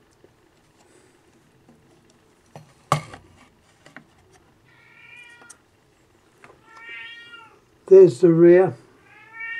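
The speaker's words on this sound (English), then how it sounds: "I've got a pussycat meowing" A domestic cat meows several times indoors, faint at first and then a loud drawn-out caterwaul near the end, mixed with small knocks and handling noises while someone speaks briefly.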